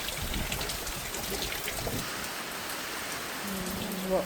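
Heavy rain from Typhoon Tino pours steadily onto a hut, a dense continuous drumming hiss that stays loud throughout, with a faint tone briefly near the end.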